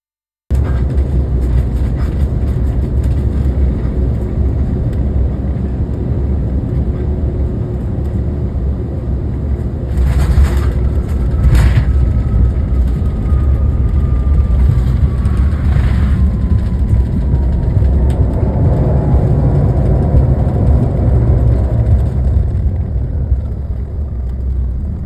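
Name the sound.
airliner landing in strong gusty winds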